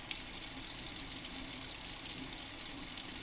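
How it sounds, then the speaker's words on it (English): Lukewarm tap water running over a makeup brush: a steady, quiet hiss of flowing water, continuous and even, with nothing else over it. "I always wet my brush, and I use kind of a like a lukewarm water temperature"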